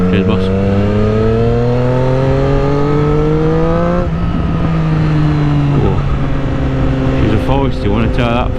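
A Triumph Street Triple motorcycle with a new aftermarket exhaust, remapped, revs up close and loud in long rising sweeps with a brief drop and re-rev, then crackles near the end.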